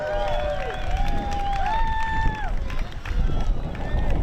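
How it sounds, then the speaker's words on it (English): Rodeo crowd at St. Cloud, Florida's Silver Spurs Rodeo cheering and applauding Miss Rodeo Florida, a steady dense roar of clapping and whoops with rising whistles and shouts throughout. "big round of applause for Miss Rodeo Florida, Lacey Stark"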